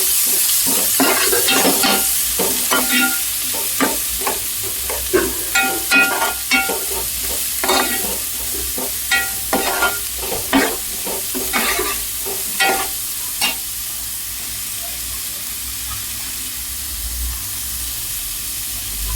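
Sliced onions frying in a pan with a little turmeric for a drumstick and tomato curry, with a steady close sizzle and a series of sharp scraping stirs that stop near the end, leaving the hiss alone.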